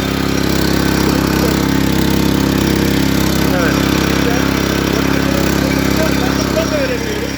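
A Bolat rotary tiller's small engine running steadily, a loud continuous close-up drone with a constant buzzing rumble throughout.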